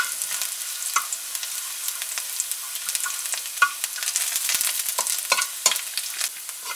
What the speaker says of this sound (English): we want to saute our garlic until it gets a golden brown